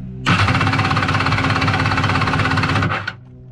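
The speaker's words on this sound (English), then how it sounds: "this is gonna be a cranking over test" A Kawasaki 1100 jet ski engine cranks over without starting for a steady run of about two and a half seconds, a loud, dense, rapid mechanical chatter close to the microphone, then cuts off abruptly.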